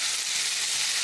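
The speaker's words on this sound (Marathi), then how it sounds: "कांदा हलकासा बदामी रंग येईपर्यंत भाजून घ्यायचा" Finely chopped onion sizzles steadily in three tablespoons of hot oil, a close, continuous frying hiss with no voices.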